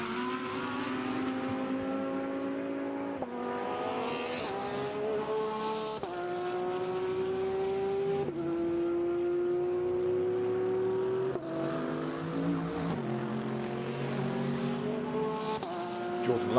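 GT race cars at Monza during free practice on a chilly circuit, with engines roaring loudly and steadily as they pass and shift up through the gears, pitch climbing in repeated sweeps under a commentator's voice.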